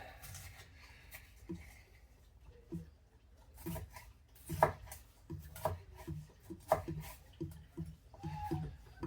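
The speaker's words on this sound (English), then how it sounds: "These pepper I'm just gonna pretty much cut in strips." A knife cuts bell peppers into strips on a cutting board, producing a series of irregular close chopping and slicing thuds with soft scraping between strokes, with no talking.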